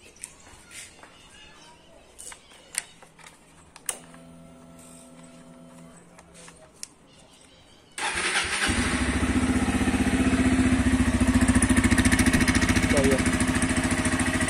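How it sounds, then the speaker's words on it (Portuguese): Quiet clicks and a brief tone, then a modified Honda Fan 160 motorcycle with an aftermarket exhaust abruptly fires up and settles into a loud, rough, steady idle close by. "Só falta ligar a moto pra vocês verem o barulho."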